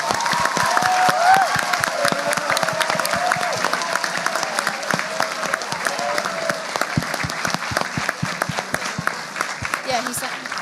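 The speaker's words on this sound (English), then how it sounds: "Clapping is in order." Applause from delegates at a Model United Nations general assembly after a resolution passes, sustained crowd clapping with some cheering and voices mixed in, continuing for about ten seconds.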